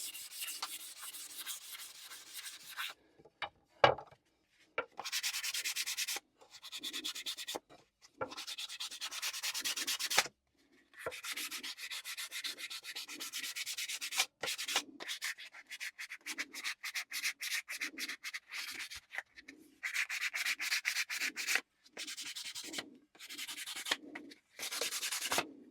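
The wooden neck of a cigar box stick dulcimer is sanded by hand along the grain, making close, scratchy strokes in repeated bursts separated by short pauses. The rubbing is crisp and rhythmic, with no talk.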